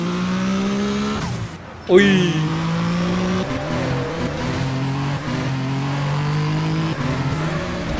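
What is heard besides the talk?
car engine revving in GTA video game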